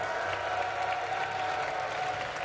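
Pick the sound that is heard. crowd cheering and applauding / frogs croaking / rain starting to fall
crowd cheering and applauding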